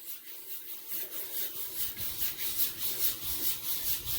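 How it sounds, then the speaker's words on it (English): Rough, gritty rubbing of a hand over rough soap scum on a bathtub, repeated in steady back-and-forth strokes, close and fairly loud, with no voices. "it's much louder, and you can feel the roughness"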